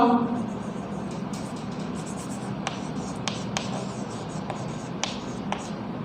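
Chalk or marker strokes on a classroom board as a probability formula is written, sharp scratchy taps and short strokes recurring over steady room noise, with a teacher speaking nearby.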